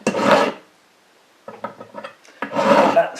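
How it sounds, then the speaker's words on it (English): A hand file rasps across a metal crank pin mount for a model steam engine, working it flat: two long, loud grinding strokes bracket a stretch of lighter scraping and clicks, close up with no talking. "we need to get it as flat as possible with the file first"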